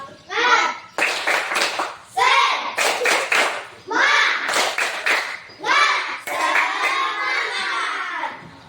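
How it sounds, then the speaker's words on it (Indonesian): Primary schoolchildren in a classroom perform the tepuk semangat clapping chant, loud rhythmic bursts of hand claps alternating with their chanted voices in short repeating phrases, close and energetic. "Ya, kita mulai tepuk semangat"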